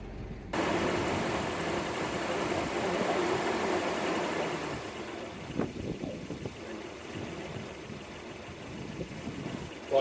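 An old Volvo engine fitted with a Weber carburetor idles roughly once warm with the choke fully off, a low steady rumble that turns uneven and sputtering in the second half.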